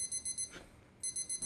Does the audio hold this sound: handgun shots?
no